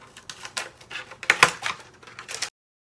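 Scissors cutting a petal out of a cardboard egg carton, a quick series of crisp snips and crunches up close, stopping abruptly.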